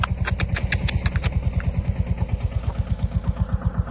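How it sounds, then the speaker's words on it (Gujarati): A farm tractor engine runs in a groundnut field with a steady, fast, regular thumping beat. Close and moderately loud, it has some clattering metallic ticks early on. "અહીંયા અમારું ટ્રેક્ટર નીકળી ગયું છે બહાર"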